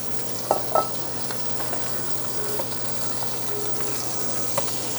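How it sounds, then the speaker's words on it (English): Halibut frying with garlic in a pan gives a steady, close sizzle with a few sharp pops and crackles near the start and one near the end. No one talks. "Again, the sizzle, the smells,"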